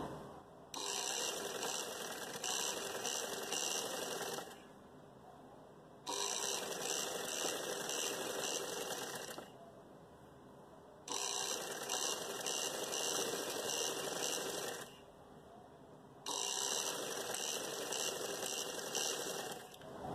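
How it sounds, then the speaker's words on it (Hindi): A sewing machine stitches elastic into a trouser waistband in four bursts of rapid, even mechanical whirring, each several seconds long and separated by short quiet pauses, close and alone. "पूरे में सिलाई लगाएंगे।"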